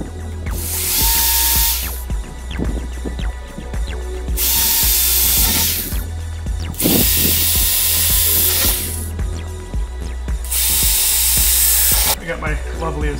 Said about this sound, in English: I'm gonna go ahead and start drilling those out